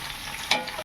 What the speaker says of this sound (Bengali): এরপর ফুলকপিটা দিয়ে দিলাম এর মধ্যে। ফুলকপিটা এবার একটু ভেজে নেব এইরকমই।